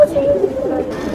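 Pigeons of Moradabadi Khawra type in a breeder's loft, giving a soft, continuous low cooing throughout, close and steady with no talk over it.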